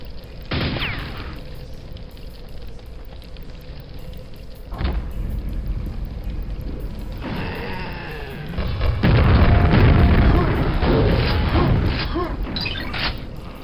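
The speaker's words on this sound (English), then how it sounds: "this thing is like a Lovecraftian like rocket launcher. Shoots out those exploding balls." Exploding balls fired by a Lovecraftian rocket-launcher-like monster in the video game Quake burst as heavy booms, one near the start, another midway, then a longer rumbling barrage toward the end over steady game ambience.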